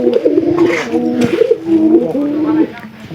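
Close, loud cooing from pigeons kept in a loft, with several rolling calls that follow one another and overlap over about three seconds, a bird's murmur steady underneath.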